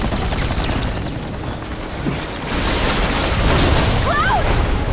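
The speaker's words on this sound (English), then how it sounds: "Shitload of bullets." Gunfire in the video game Final Fantasy VII Remake, dense continuous rattling shots and booms filling the scene loudly, with faint voices mixed in.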